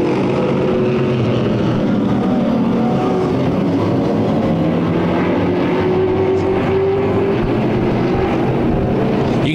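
Jr late model race cars circle Irwindale Speedway in a continuous loud roar of engines. Commentary is not heard in this stretch.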